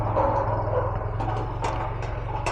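A dog barks several times in short bursts over a steady low hum, moderately close, with no talk.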